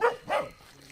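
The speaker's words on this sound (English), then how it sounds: "We hear you barking." Two short, close dog barks in quick succession, then quiet.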